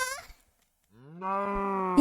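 Two moos from a cow in a block-building survival video game: a brief call, a pause, then a longer, clear, close low moo.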